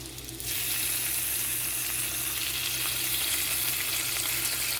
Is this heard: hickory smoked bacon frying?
yes